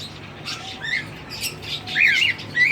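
Caged pet birds, including cockatiels, kept at home give repeated shrill squawks and bright chirps, close and clear over a low steady background hum, with the calls growing busier toward the end.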